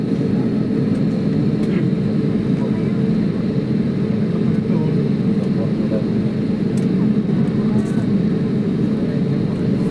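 An airplane sits on the runway before take-off, its engines giving a steady, loud broadband roar that holds even and unbroken throughout, with no clear talk above it.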